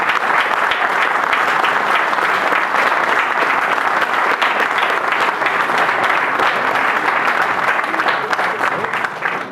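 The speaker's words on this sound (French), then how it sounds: "je voulais le féliciter et vous demander de l'applaudir chaleureusement" Warm, sustained applause from a crowd at a town hall New Year's greetings ceremony in Feuguerolles-Bully, steady dense clapping throughout with a slight taper at the close.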